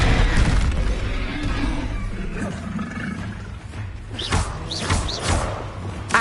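Bombarda blasting spell impacts in Hogwarts Legacy land as heavy roaring thuds amid combat noise, with a few sharp bursts near the end.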